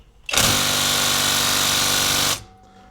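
An impact gun hammers on a 12 mm 12-point socket during repair work on a 2001 Ford Excursion, one loud, close, continuous burst lasting about two seconds before cutting off.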